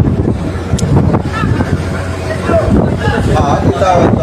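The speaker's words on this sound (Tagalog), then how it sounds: "sobrang lakas ng hangin" Strong wind roaring across the microphone at Jolo port, a steady, loud buffeting rush that never lets up, with people talking beneath it.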